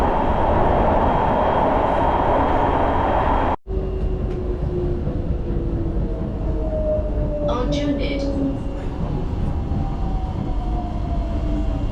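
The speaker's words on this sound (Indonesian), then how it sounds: "Kenceng banget angin di kereta api bandara ini." An airport train carries passengers from the airport toward Singapore's city centre, with strong wind inside the carriage. A loud, steady rumble and rushing noise is briefly interrupted, then continues more quietly with a rising whine and faint clicks of the rails.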